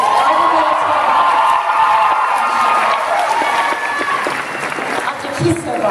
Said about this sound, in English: I really think she deserves yet another roaring applause.